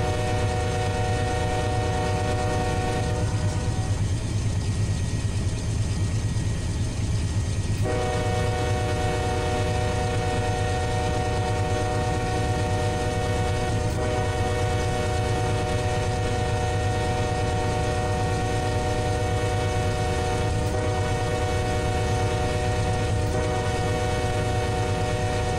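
A long intermodal freight train, some 9,000 feet, rolls steadily into Waycross with a loud continuous rumble and drone, its horn sounding in long sustained blasts that dominate throughout.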